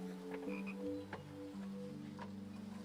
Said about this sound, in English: Got a sick frog, Dad.